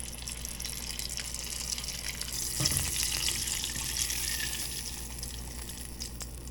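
Oysters deep frying in hot oil make a steady, loud sizzle throughout, with a brief burst of bubbling and popping as they drop in.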